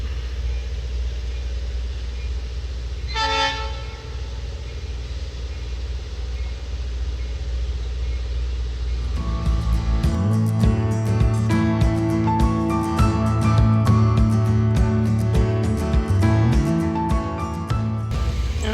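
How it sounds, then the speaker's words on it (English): A museum train backing up on its track, a steady low engine rumble that swells after the first half into a louder, busier mechanical clatter with rapid metallic ticks, heard with no talk. "They're gonna back the train up now."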